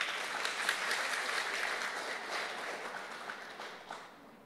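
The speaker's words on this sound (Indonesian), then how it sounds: "Boleh tepuk tangan?" Indoor audience applause at a national film day gathering, steady mid-distance clapping from many hands that holds for several seconds and then tapers off.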